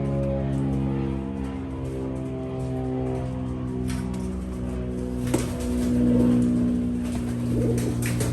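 Pigeons being rehomed, including Muleman birds, coo in low throaty repeated calls, several birds overlapping at close range in a continuous layered murmur with a brief sharp knock partway through.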